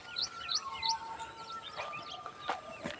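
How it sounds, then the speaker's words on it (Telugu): Birds chirp and tweet near green village paddy fields with mango trees, short bright calls repeating several times over a steady rural background, moderately close and clear with no talking. "పక్షుల శబ్దాలు"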